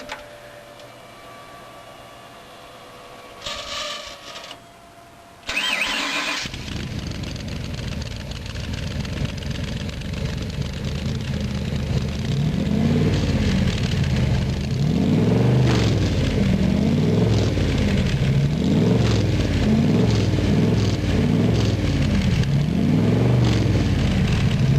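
Ford 427W V8 engine starting after a brief cranking burst, then settling into a loud, throaty, lumpy idle with a pulsing rhythm that builds and holds close to the microphone for about twenty seconds.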